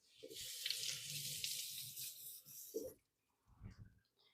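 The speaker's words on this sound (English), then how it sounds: "Give my hands a quick wash." Hands scrubbed under a steadily running kitchen tap, the water spray loud and close for about three seconds before cutting off, followed by a few soft handling sounds.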